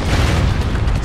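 A deep, sustained rumbling boom from an explosion in the 2012 war shooter Spec Ops: The Line, loud and dense across the whole moment with no voices over it.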